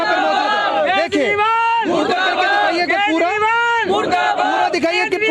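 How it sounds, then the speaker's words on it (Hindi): Villagers blocking a road in protest in Ghonga village, Narela, shout and chant together in a loud, dense crowd, with voices rising and falling in sustained waves close by. "पूरी तरीके से रोड को जाम किया गया है और काफी भीड़ यहाँ पर मौजूद है"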